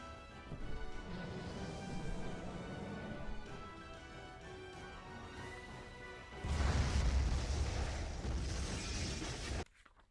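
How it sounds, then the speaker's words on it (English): An explosion sound effect for a fantasy audio story about a dragon's impact in an attic hits partway through as a sudden deep, rumbling blast over soft music, roaring for about three seconds before cutting off abruptly. "A huge explosion from the impact drowned out everything else in the attic"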